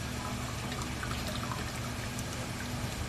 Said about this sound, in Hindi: ये 2 गिलास पानी या 3 गिलास पानी डाल दें।